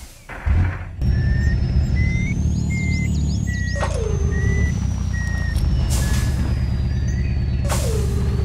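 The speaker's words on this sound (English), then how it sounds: "Now we got this truck back up and going." A truck engine idles and revs in the Spintires off-road game, with repeated reversing beeps and air-brake hisses over a steady low rumble, loud and close with no talking.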